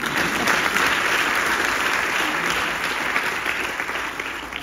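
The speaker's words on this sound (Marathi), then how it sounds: "तुम्ही स्वतःसाठी एकदा टाळ्या वाजवल्यात तरी" An audience claps steadily at the curtain call of the Marathi play Charchaughi, a dense, continuous wash of applause from a full theatre that holds strong throughout, with no voices on top.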